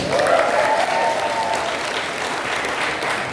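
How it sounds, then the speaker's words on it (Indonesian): An audience claps in a sustained burst of applause, dense and even, filling the whole stretch without a break. "Aplaus buat PTBS."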